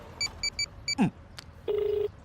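Four short keypad tones sound in quick succession, followed by a brief swoop and a click, then a longer steady ringback tone.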